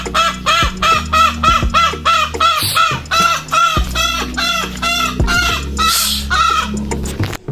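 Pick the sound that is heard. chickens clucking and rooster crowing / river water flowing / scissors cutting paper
chickens clucking and rooster crowing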